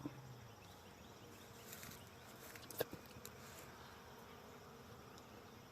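A stirred-up honeybee swarm from a swarm capture drones in a quiet, steady buzz throughout, with a few brief louder bee passes and small knocks in the middle.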